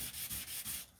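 Sandpaper rubbing back and forth on a harmonica comb for a custom Easttop harp, flattening it for airtightness; four or five quick, close scraping strokes in steady rhythm, with no talking.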